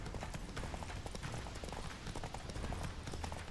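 Roach, a horse in The Witcher 3, gallops with a steady, rapid clip-clop of hooves that runs continuously and loud throughout, while someone speaks briefly over the hoofbeats.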